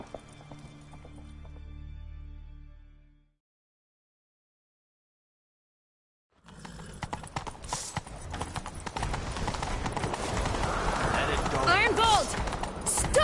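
Horse hooves gallop in a steady, rapid clip-clop in The Witcher 3, loud and close, after a short stretch of silence, with faint voices and game ambience underneath.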